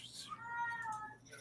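A cat meows in a drawn-out, wavering cry at moderate distance, faint and partly buried under quiet background noise.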